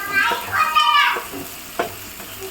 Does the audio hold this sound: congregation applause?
no